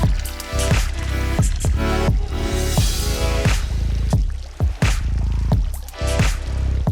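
Water spills and drips in a small circulating garden water feature, a busy run of close, irregular splashy plops and trickles that carries on throughout at moderate loudness.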